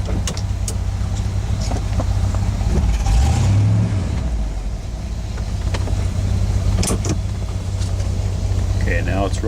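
A C3 Corvette rolls down a gentle hill under its own weight with a steady low drone, rising and falling through the middle, and people talk over it.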